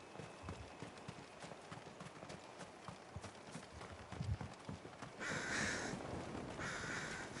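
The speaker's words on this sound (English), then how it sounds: "Get out of here, crows." Crows caw in Final Fantasy XVI, loud repeated calls that come in bursts over a steady ambient bed and clip-clopping hooves.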